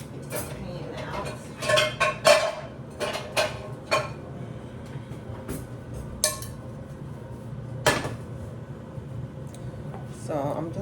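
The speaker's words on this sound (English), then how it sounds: "Get the pan out." A pan is pulled out in a home kitchen, with pots and pans clinking and clattering in uneven bursts, louder knocks early on and a sharp clank later, while someone talks nearby.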